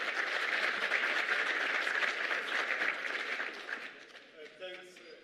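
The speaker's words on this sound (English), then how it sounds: "Please, a round of applause as he makes his way to stage." Audience applause at a national treasury climate resilience symposium as the deputy minister of finance walks to the stage, dense clapping for about four seconds that thins out, with a voice starting to speak at the end.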